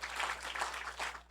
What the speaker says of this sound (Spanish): que les demos un aplauso a todos